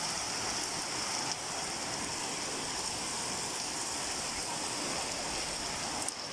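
A heavy downpour near a pond in Birbhum district gives a loud, continuous wash of falling water, with one short dip in level early on and no talking.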